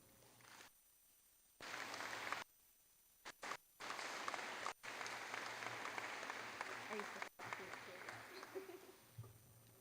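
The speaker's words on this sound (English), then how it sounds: "I would like us all to give a big applause to this year's scholarship recipient, Tia Dykema" A crowd applauds a scholarship recipient at a high school senior awards night, a steady roar of clapping in bursts broken by brief silent gaps, with a voice faintly underneath.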